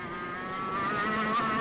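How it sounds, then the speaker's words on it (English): A 100cc racing kart engine revs and rises in pitch, a high whining tone climbing steadily over a second and a half onto the straight, heard from a moderate distance. "You can really hear the engine RPM lift as he comes onto the straight there."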